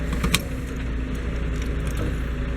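A bunch of keys jangles near the start, a brief bright metallic rattle, then steady outdoor noise with a passing vehicle rumbling underneath.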